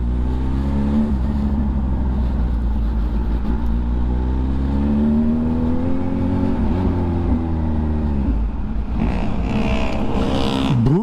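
A Kawasaki Sage 2 motorcycle rides around close up, its engine droning loudly and steadily with rising and falling revs as it accelerates and eases off, and a brief whoosh of passing traffic near the end.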